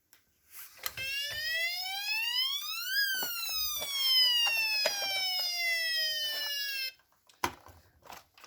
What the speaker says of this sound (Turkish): Evet polis aracımız geliyor.